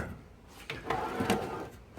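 A tool box drawer slides open with a short scraping rattle of metal, faint and close, with a few light clinks as it moves.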